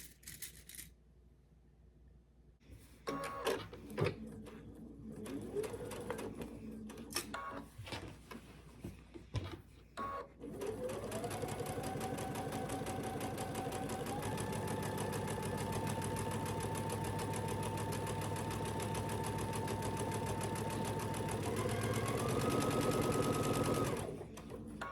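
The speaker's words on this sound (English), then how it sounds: "sew that 1/4 inch seam" Sewing machine running a 1/4 inch seam on a T-shirt quilt, with some stop-start stitching and handling noises at first, then a long continuous steady whir that shifts pitch slightly as the speed changes.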